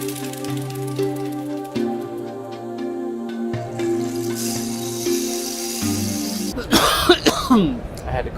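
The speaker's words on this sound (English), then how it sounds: "I had to cough." A burst of harsh coughing near the end, following several seconds of low steady humming tones and faint background noise.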